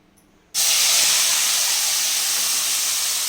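Onions, tomatoes and green chillies hit hot oil in a pan, and after a brief quiet moment a loud, sudden hissing sizzle bursts out and continues strongly.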